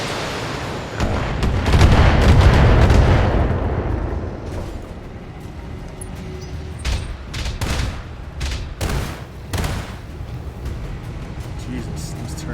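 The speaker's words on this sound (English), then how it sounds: "Jesus, these turrets are something." Turrets firing in the BattleTech mech game: a deep rumbling boom swelling and fading, followed by a series of sharp separate shots and impacts, with someone talking throughout.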